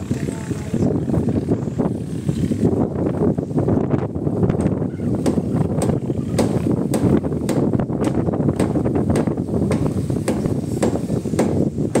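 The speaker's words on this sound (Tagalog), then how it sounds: "medyo malikot ang kamera natin at malakas ang hangin" Strong wind buffets the microphone in a continuous low roar at a boatbuilding site in Barangay Sisiman, with faint tapping noises scattered throughout.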